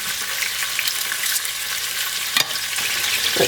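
Chicken pieces browning in a frying pan give a loud, steady close-up sizzle of hot fat, with one brief knock or scrape partway through and no talking.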